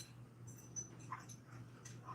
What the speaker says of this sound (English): Look at that poor dog.